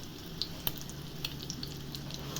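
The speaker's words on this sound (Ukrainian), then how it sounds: "І смажимо три хвилинки." Flounder sizzles quietly in a hot pan, frying to a golden crust, a steady low crackle with occasional small pops and spits.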